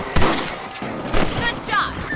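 Gunshots ring out in Red Dead Redemption, a few sharp cracks spaced across the moment with a ringing tail, heard close and loud among other game sounds.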